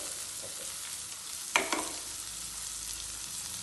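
Chopped ginger, garlic, green chilli and onion fry in a pan for fish biryani, a steady close sizzle with a brief scraping stir in the middle.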